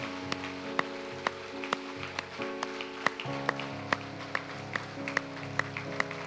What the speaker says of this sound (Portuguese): Aplauda o Espírito Santo, por favor.